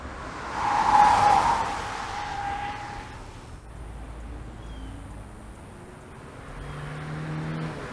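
A 2017 Hyundai IONIQ Hybrid runs a twisty handling loop, a brief tire squeal early on fading into a low, steady road and engine hum.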